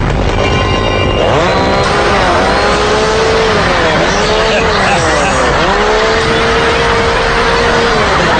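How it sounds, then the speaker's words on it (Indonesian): A car on a city street swerves and turns around, its engine whining and revving loudly with rising and falling pitch against a dense, noisy background of traffic and crowd. "sebuah mobil terpaksa harus berputar arah untuk menghindari hadangan sang manusia gergaji tersebut"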